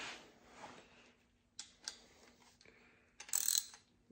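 A ratchet tightens a bolt on the aluminum steering handle of a short-tail mud motor, giving a few faint bursts of clicking separated by quiet gaps, with no talking.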